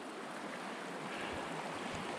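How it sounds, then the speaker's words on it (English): White Rocks River rushes below a dam, a steady broadband roar of flowing water that stays constant and fairly loud throughout, with no voices. "But I got to cross the White Rocks River here."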